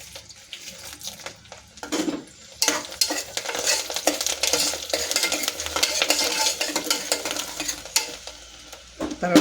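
Garlic cloves and dried red chillies frying in hot oil while a spoon stirs the pan, with continuous loud crackling sizzle and frequent scraping strokes, no voices.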